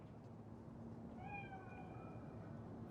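A cat meows in the Cyberpunk 2077 video game, a single drawn-out, rising-then-falling call heard faintly over a steady low background hum, with no talk.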